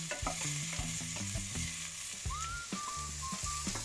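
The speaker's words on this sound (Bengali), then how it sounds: "অল্প তেল গরম করে মাশরুমগুলো সতে করুন।" Shredded mushrooms sauté in a little hot oil, producing a continuous close sizzle with clacking stirs and faint tonal background music underneath.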